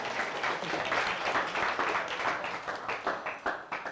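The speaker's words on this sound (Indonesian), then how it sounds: "Nah, tepuk tangan dulu untuk Iqbal, luar biasa." Students applaud a classmate during a school Ramadan program, with a burst of fairly close, dense clapping that gradually thins out.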